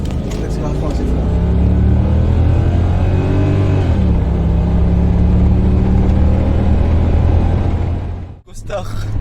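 An Audi A8 D2 pulls hard from inside the cabin, its engine note rising loud and steady in pitch over several seconds, easing briefly, then climbing again before cutting off sharply near the end, with voices talking over it.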